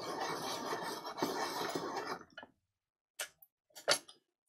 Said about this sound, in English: Let's sharpen my green so I've got nice.